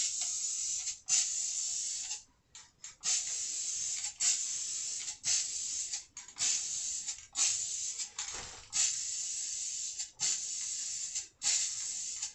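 Clear coat paint sprayed onto front trim pieces for a 1995 Ford F150, in a string of about ten short, loud hissing bursts separated by brief pauses.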